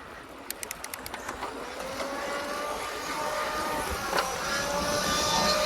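A motorcycle engine drones steadily during a long wheelie, distant at first and slowly growing louder, after a quick series of sharp clicks at the start, with a faint swish of passing traffic in the background.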